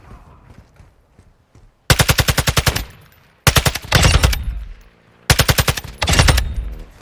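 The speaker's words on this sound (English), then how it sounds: "Somebody's shooting again." Automatic gunfire in the video game Call of Duty DMZ comes in three loud, rapid bursts separated by short pauses, with faint quieter sounds before the first burst.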